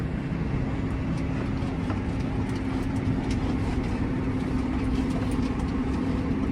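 Steady low engine rumble of a tractor moving over slippery snow in a snowstorm in western Ukraine, a continuous droning hum with faint scraping and crunching over it.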